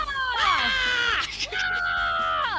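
A woman screams twice in a row, loud, long and wavering shrieks with a brief break between them, close up, with a crowd shouting in the background.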